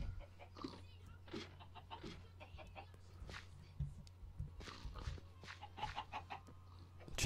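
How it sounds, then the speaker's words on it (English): Chickens cluck in the Minecraft video game, short repeated clucks scattered over a low steady background hum, fairly faint throughout. "Chickens on the loose."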